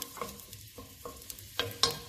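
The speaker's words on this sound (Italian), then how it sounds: "vado ad aggiungere subito la cipolla e la carota. Andiamo a rimestare, sentite come sfrigola" Chopped onion and carrot sizzle in hot oil in a pan while being stirred for pasta e ceci, a steady close frying hiss broken by a few sharper scraping stirs.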